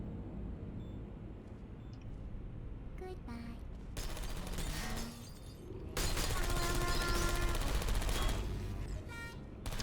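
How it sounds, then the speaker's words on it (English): Automated turret gunfire in Portal 2 on a community test map with fizzlers, coming as rapid bursts of sharp shots that build to a loud, sustained barrage over a steady background. "I'm trying to make it shoot its friend. I want to get that fucking turret."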